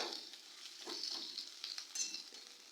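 Spices with red chili powder fry and sizzle in a pan for an onion-free mutton kaliya, a quiet, steady hiss with soft stirring scrapes.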